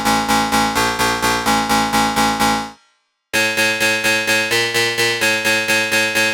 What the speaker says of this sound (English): which is a modulated sound with some FX on it that creates this metallic